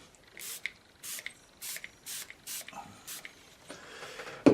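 A spray bottle pumped repeatedly over a watercolour paint palette, about seven quick hissing bursts in a steady rhythm, close and fairly quiet, ending with a small clatter.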